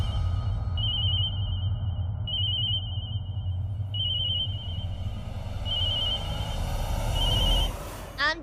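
A telephone rings in repeated short electronic bursts, five rings spaced a second or so apart, over a low steady hum, ending with a brief rustle.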